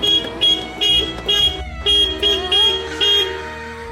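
A car horn honks in a rapid series of short, loud blasts, close by, with brief gaps between toots.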